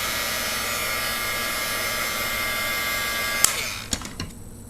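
A hot glue gun or heat tool runs with a steady broadband whir, warming glue to reattach a fabric daffodil leaf. A few clicks and knocks come near the end as it shuts off.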